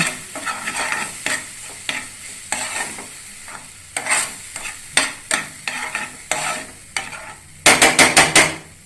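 Vegetables and paneer fry in a very hot pan, loud and near, with a constant sizzle. A spoon scrapes and clatters in repeated stirring strokes, ending in a quick burst of rapid scraping, with no talk.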